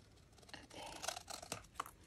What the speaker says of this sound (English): I just take the scissors and I just follow this line.